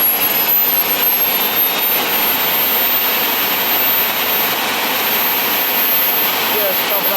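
A jet engine mounted on a dirt bike runs at high power as a loud, continuous, close roaring hiss with a faint high whine on top, steady throughout.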